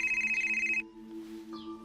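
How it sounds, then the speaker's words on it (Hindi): A mobile phone ringtone chimes in a steady, pulsing electronic pattern indoors, then cuts off abruptly, leaving a low hum and a faint tone. "ये तुम्हारा फोन बज रहा है, फोन लो।"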